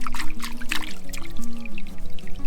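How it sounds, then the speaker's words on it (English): Water pours and trickles nearby for a foot wash at the end of a hike, a steady close splashing stream running for a couple of seconds. "A little end of hike foot wash."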